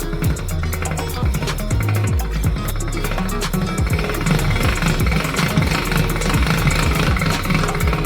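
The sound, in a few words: hand-cranked pasta machine rolling lasagna dough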